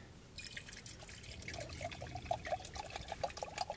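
Water poured from a small camp pot into a cup for coffee outdoors on a hiking trip, a close trickling and dripping stream that starts softly and grows steadier, heard alone.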